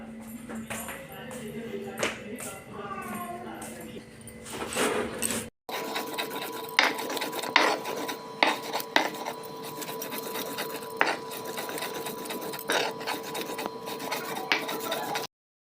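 An electric mixer grinder whirs steadily while grinding a chutney of green chillies, garlic, tomato, salt, cumin and coriander leaves, running continuously for several seconds after some kitchen clatter and a brief stop.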